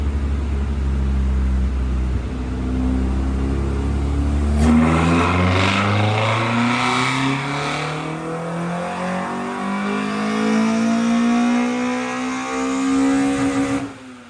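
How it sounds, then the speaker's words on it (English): A Toyota AE86 engine on a dyno revs steadily upward under heavy load in one long, rising pull, loud and close, with no talking, before easing off at the end. "it was time to do one final power pull"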